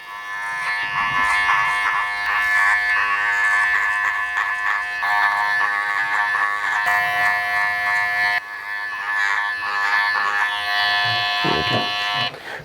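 Electric hair clippers with a number 1 guard, lever back, cut hair up and off the head for a classic side-part haircut. They give a steady, close, continuous buzz that hums unbroken throughout.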